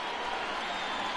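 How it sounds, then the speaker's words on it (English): A modest ballpark crowd in MLB The Show 20 cheers and applauds as fans rise to their feet late in a White Sox game, a dense, steady roar without pause. "Not the largest crowd ever, but they're on their feet."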